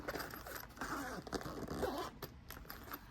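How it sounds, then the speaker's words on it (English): A zipper around the edge of a crochet kit case being pulled open in a series of short scraping bursts, close and fairly quiet, with faint rustling between pulls. "you have another zipper around the edge. So we are going to open that up"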